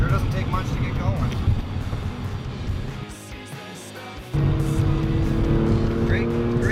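A 2002 Porsche Carrera 4S being driven, its engine a steady low drone heard from inside the car that jumps in loudness partway through, with a voice speaking over it.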